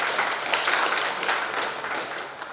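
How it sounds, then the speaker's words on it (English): Audience applause for the chief guest at a national cancer conference in Odisha, a steady wash of many hands clapping together, fairly loud and continuous throughout with no talk over it. "A big round of applause for our chief guest, Dr. Sarangi"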